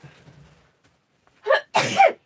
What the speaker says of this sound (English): Oh, I'm going to sneeze again.